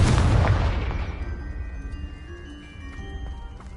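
A Confringo fire spell blast in Hogwarts Legacy, one loud close boom opening the moment, then a rumbling decay with fiery crackle that dies away within about two seconds.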